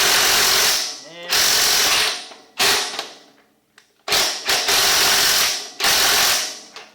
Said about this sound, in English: Let's see if I can crank them down a little bit more